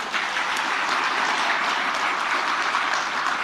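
An audience claps continuously at a talk or show, a dense, even wash of applause that stays at the same loud level from start to finish without voices.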